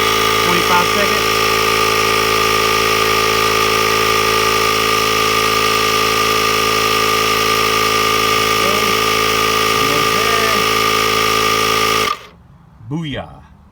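A Ryobi dual-purpose inflator runs at a loud, steady, high-pitched motor drone for about twelve seconds, then cuts out abruptly at auto shut-off, leaving near quiet with a brief voice afterward.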